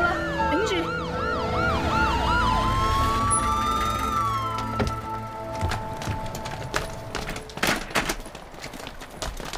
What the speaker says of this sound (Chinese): 救护车到啦